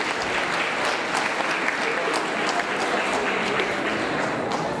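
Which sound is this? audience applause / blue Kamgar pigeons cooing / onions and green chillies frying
audience applause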